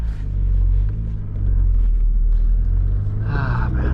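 A 1990s Mazda Miata cruises along with a deep, steady engine rumble and road noise, a brief brighter hiss near the end, and no talking.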